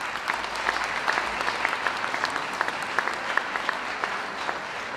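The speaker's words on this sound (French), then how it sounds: "j'aimerais qu'on l'applaudisse très fort" An audience at a Lunar New Year Têt celebration claps warmly for a newly appointed official, a dense, steady round of applause with sharper individual claps standing out throughout.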